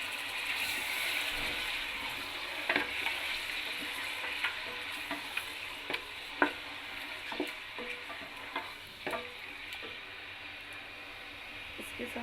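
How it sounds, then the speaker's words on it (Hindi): Chicken frying in hot oil in a pot, a steady close sizzle and crackle with occasional pops and spoon clinks, staying loud throughout at a kitchen stove. "तो मैंने ऑयल गर्म होने के लिए रख दिया था पतीले में। तो अभी इसमें मैं ये चिकन डाल दूँगी।"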